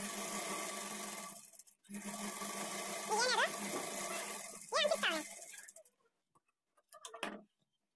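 A domestic sewing machine stitches a blouse sleeve in short runs with pauses, a steady whirring hum close by, while someone talks over parts of it.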